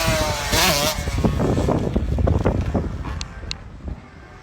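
Dirt bikes riding at County Line MX track roar loudly with wind buffeting the microphone, engines revving and fading as the bikes pass close by, then a couple of sharper high whines as they move off.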